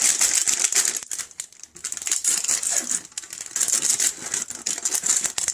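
Continuous crinkling of a plastic bag of egg noodles, loud and close, with irregular crackles and brief pauses throughout.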